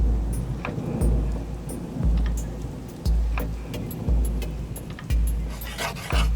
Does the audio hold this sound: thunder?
yes